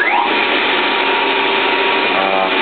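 A 1K62 lathe boring the end of a long cylinder rod with a bore head held in the tailstock, turning at 400 RPM with a 1 mm cut, gives off a loud, steady machining whir and hum that runs alone without pause.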